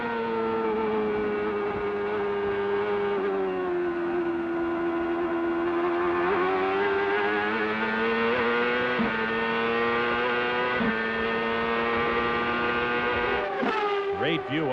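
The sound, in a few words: CART race car engine revving up through the gears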